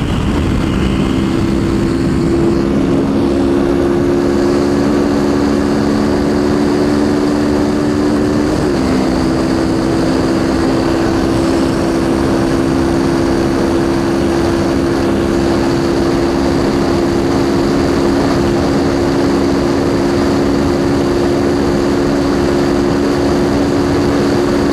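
A small sport motorcycle climbs a highway grade under steady throttle, a droning engine note with heavy wind rush, one brief dip as a gear changes partway through, then the drone carries on evenly.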